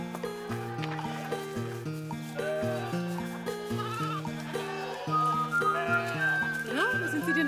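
Lambs bleat on a farm in a Teletubbies children's show, their cries mixed in beneath a stepping, tuneful music track that plays throughout.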